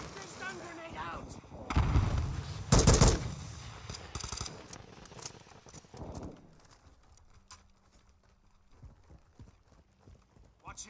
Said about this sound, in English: It's always fun to get the stun grenade out.